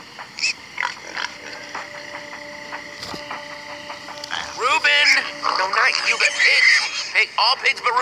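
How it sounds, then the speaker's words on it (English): Pig grunts and oinks from the video game Minecraft Story Mode, a few short snorts standing out over steady game music, followed by a stretch of loud, overlapping squeals and grunts toward the end. "They're all stupid normal pigs."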